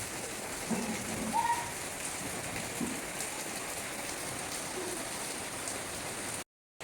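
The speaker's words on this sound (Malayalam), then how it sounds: "മഴ നല്ലോണം പെയ്തു" Steady rain hisses across the whole stretch, a dense even patter with a faint bird call briefly rising above it.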